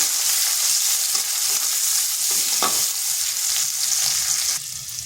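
A large chopped onion sizzles in hot oil in a pan with bay leaves, a steady close frying hiss with occasional stirring scrapes throughout.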